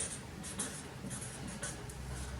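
A pencil writes a word on paper, a quiet scratching in short strokes with small taps, close and alone.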